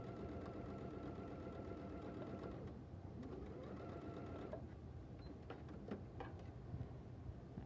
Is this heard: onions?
no